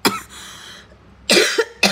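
Coughing from a woman doing a makeup routine: one harsh cough burst, then after a pause a loud cluster of two or three close, forceful coughs, with nothing else around them.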